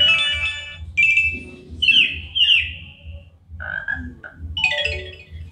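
A Poco M3 phone plays a notification ringtone, a short run of bright, bird-like chirps and tweets, clear and close, over a faint low hum.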